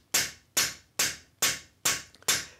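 Six sharp, evenly spaced hammer taps on a cap peening jig, drawing out the edge of a European scythe blade, each ringing metallic strike decaying quickly, close and alone with no talk.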